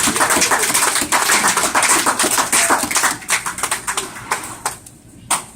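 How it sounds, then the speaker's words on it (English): A crowd applauds Bantam Prep bowlers at a summer 2015 bowling awards ceremony, with dense, steady clapping that thins into scattered claps and dies away near the end. "One more round of applause for all of our Bantam Prep."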